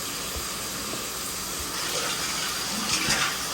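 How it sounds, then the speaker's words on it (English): Water from a running sink and shower pours into a drain during a blocked toilet pipe job, a steady broad hiss and rush that swells slightly near the end, with no voices. "So we got the sink and the shower running"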